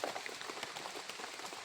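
Rain falls steadily in a constant broadband patter, a dense wash of droplets with no pauses, moderately loud and close.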